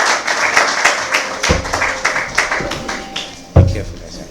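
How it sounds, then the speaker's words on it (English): Scattered clapping greets an airline managing director at a Boeing 737-800 training event, with uneven, moderately close claps and two sharp thumps, under audible talk. "Please say a round of applause for him."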